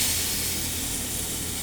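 Meat sizzles and steams in a hot pot on the fire while rice and meat are being cooked, giving a steady, close hiss with no talk.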